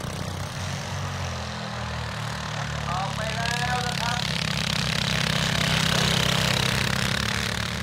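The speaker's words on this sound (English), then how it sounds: "It's a Mitsubishi turbo diesel." Mitsubishi turbo diesel engine running steadily nearby, a loud continuous low throbbing drone with a droning rumble, while a voice speaks briefly over it.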